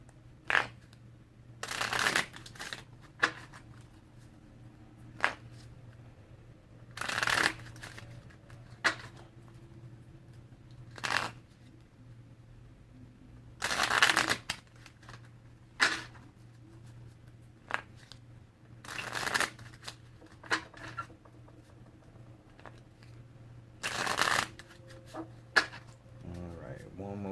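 Tarot card shuffling in several quick riffled bursts spaced a few seconds apart, close and crisp, with a low steady hum underneath.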